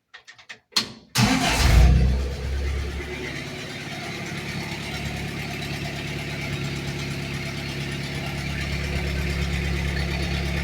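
A 1949 Willys pickup starts with a few cranking clicks, then its engine catches and settles into a steady, loud idle through the exhaust, deep and rumbling up close, with no voices.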